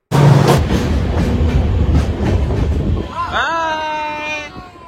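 A slow hill train rumbles along the rails with rhythmic clatter, then fades as a rising, wavering voice-like tone takes over in the last seconds.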